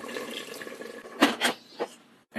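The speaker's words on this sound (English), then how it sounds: "Add half cup of water" Half a cup of water is poured into a pan of spiced mutton curry, making a few quick, faint splashing gurgles against a quiet kitchen background.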